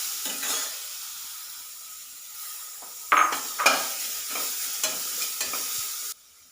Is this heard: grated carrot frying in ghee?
yes